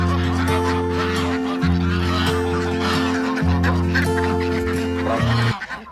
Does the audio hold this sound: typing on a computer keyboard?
no